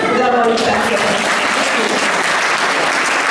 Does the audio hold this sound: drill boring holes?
no